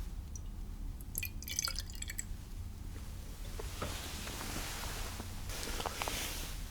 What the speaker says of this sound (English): Just do a little pour here.